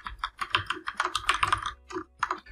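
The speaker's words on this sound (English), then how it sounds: "We start by typing password hash" Quick bursts of typing on a computer keyboard, close and crisp, with irregular clusters of keystrokes and short pauses, no voice over it.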